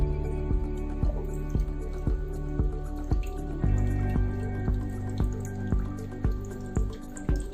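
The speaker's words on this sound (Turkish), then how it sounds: "buradan musluktan akış hızını ayarlayabiliyorsunuz" Water runs from the tap of a siphon hose into an aquarium, giving a steady trickle with regular dripping splashes close by and no talk over it.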